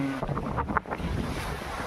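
Strong wind at the seashore with surf, a steady broadband rush buffeting the microphone throughout, with a few brief brighter gusts.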